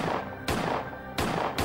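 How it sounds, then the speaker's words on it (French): Several gunshots ring out in sharp, loud bursts, three distinct cracks spaced unevenly across a second and a half over a dense rumbling background. "abattu de plusieurs balles"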